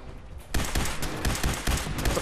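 Rapid pistol shots from Kellogg's pistol in Fallout 4, a dense string of sharp cracks in quick succession following a brief quieter lead-in.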